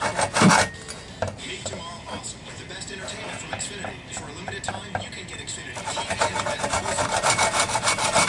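A section being cut out of a car's cowl hood on a '69 Camaro, a steady rasping, scraping cut with rubbing strokes, close by and fairly loud, with a voice speaking over parts of it.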